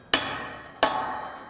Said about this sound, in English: I take my center punch, and I align the center punch up exactly where I would like the hole